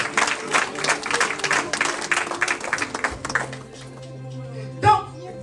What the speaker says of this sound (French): Acclamons. Applaudisseren.